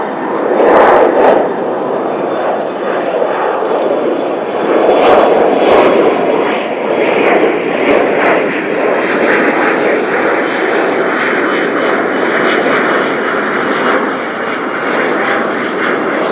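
A United Boeing 777 jet at DFW International Airport gives off a loud, sustained engine roar that swells and holds for the whole stretch, with no voices over it.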